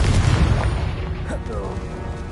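Confringo fire spell exploding in the Hogwarts Legacy video game, a short burst of booming, crackling blast noise layered with game combat sounds and a voice speaking over it.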